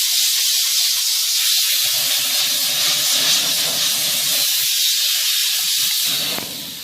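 A steam car wash machine sprays steam in a loud, steady, continuous hiss that fades slightly at the very end, with no voices.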